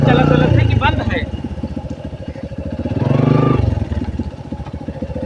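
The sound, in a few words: motorcycle engine started and running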